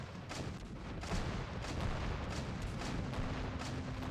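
Missile launches and gunfire from LAV vehicles in the strategy game Men of War: Assault Squad 2 form a dense, continuous barrage of overlapping booms and shots that stays steady and loud throughout.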